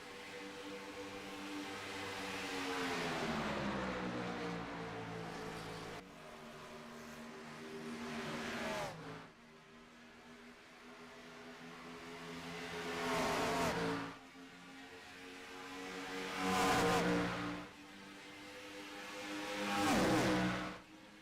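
Race cars in a FUEL Premiere Series finale at Auto Club Speedway in Fontana, engines droning steadily and swelling as packs of cars roar past close by several times, each pass peaking loudly and fading.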